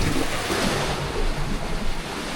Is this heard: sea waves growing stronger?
yes